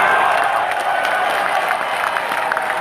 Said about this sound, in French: Applaudissez pour M. Sambaka,